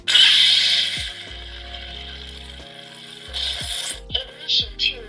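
A Neopixel lightsaber sound-effect ignition: a sharp mechanical snap-hiss at the start, then a low electronic hum with clicking, ratchet-like pulses and a few bright flickers toward the end.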